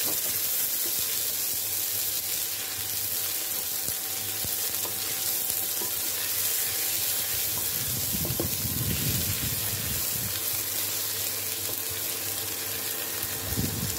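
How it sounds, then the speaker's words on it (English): Two large onions fry in lard in a pan with a steady, close sizzle, stirred partway through with scraping and clattering, and nobody speaking. "I've got 2 large onions in here. I've got a bit of lard in there. I'm just going to fry that off."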